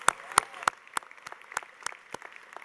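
At a university honors convocation, the audience applauds the business school award winners with a sparse, evenly spaced series of about eight crisp claps ringing out in a large hall.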